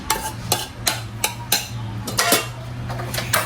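Onion, garlic and tomato being sautéed without oil in a pan for ampalaya with egg, with a spatula scraping and clinking against the metal in a steady series of sharp, close strokes over a low background hum.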